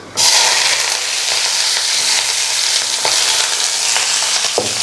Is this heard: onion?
yes